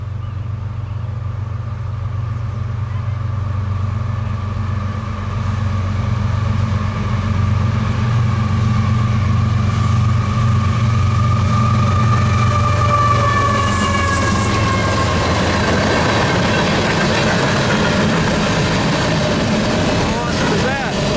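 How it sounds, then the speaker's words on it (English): A CSX freight train approaches on the New York to Chicago main line with a loud, steady low rumble, and its horn sounds in rising, wavering blasts toward the end as it draws near. "Got a train coming, check it out."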